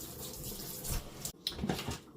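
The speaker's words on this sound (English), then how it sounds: "I like to just rinse mine a little bit with some hot water." Hot tap water runs into a kitchen sink to rinse cooked lobsters, a steady close splashing stream that cuts off briefly partway through and then resumes.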